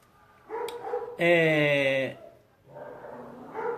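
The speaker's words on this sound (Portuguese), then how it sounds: "os cães da rua latem e ele vai latir junto, porque ele quer participar da conversa" A dog lets out a loud, drawn-out bark close by, joining the street dogs barking nearby. A voice talks just before and after it.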